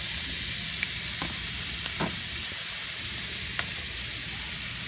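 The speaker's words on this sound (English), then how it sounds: "So what we're going to do is we're going to brown up the meat." Ground meat browning in a pan for a healthy taco mix, a steady broadband sizzle running throughout with a few sharp clicks of a utensil scraping and stirring, close and fairly loud, no talking.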